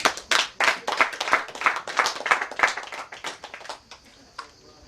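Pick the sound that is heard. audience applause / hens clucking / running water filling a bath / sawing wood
audience applause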